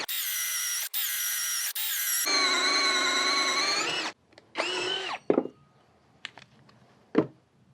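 A Hyper Tough cordless drill bores holes with a spade bit, loud whining motor bursts with brief stops, then a sustained run, followed by shorter spurts and clicks as it slows and quits.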